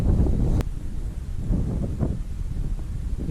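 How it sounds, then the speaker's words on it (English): Strong wind buffets the microphone at a trout fishing spot outdoors, a steady low roar with gusty surges and faint rustling throughout, close and continuous. "it's a lot of wind"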